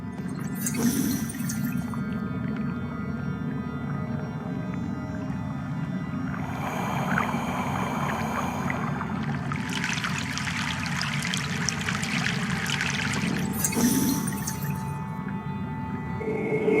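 A river crossing by boat in Broken Sword: The Sleeping Dragon, set in Egypt, gives a continuous low rushing and trickling water bed, with brief brighter splashes near the start and end and a swelling wash midway, no voices.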